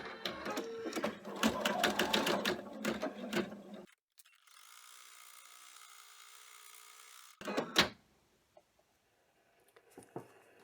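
An embroidery machine sews a placement stitch in a rapid mechanical rattle for about four seconds, then falls quiet apart from a soft hum and a few clicks and clunks.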